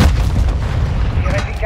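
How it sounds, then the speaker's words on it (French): Heavy airstrike explosions in Modern Warfare 2 during a search and destroy match on the Koro village map, loud continuous booming rumble with dense low-end blasts throughout, under faint voices. "Trois Tiger 4 sont en vol. Bombardement stratégique imminent."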